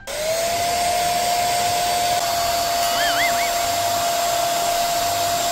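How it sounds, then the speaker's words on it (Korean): A hair dryer runs steadily inside a truck cab on battery power, with no engine running, producing a loud, continuous, even airflow roar and a sustained motor whine that last the whole time, with no talking. "근데 이 드라이기가 진짜 전기를 많이 먹긴 많이 먹네요."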